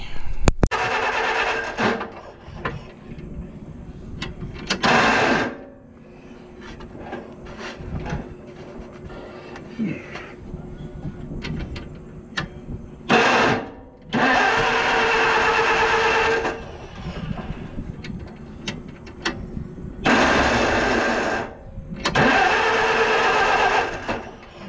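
A 1955 International 300 truck engine cranks and catches in several loud, rough bursts of a few seconds each, separated by quieter stretches of clanking and rattling.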